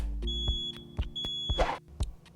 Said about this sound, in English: When testing your smoke detector, you want to make sure that you push the test button.